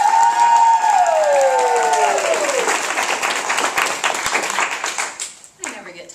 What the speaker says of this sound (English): Now, a big round of applause.